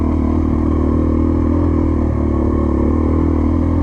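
A 2024 Gas Gas EC450F dirt bike rides along steadily, its engine a loud, continuous drone with clattering rattles throughout and no clear revving bursts.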